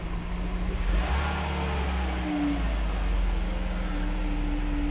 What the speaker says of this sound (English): Whoops, and it's idling pretty rough.